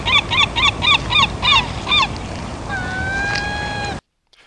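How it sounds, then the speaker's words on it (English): Loud, close gull calls repeat in a quick series of honking cries, followed by a long drawn-out wail before cutting off abruptly. "Here we have a waveform for a gull sound"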